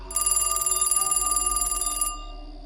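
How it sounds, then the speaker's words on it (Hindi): An old telephone rings in a quick, steady electric bell trill for about two seconds, then cuts off, loud and close with no talk around it. "रात के 2 बजे के बाद एक पुराना फ़ोन बजता है"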